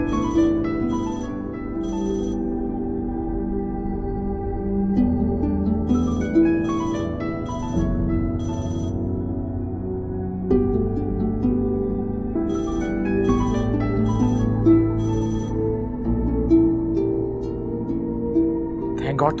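A telephone ringtone sounds in repeated bursts, several spaced rings cycling over a steady low musical background, fairly loud and close, with no pickup between rings.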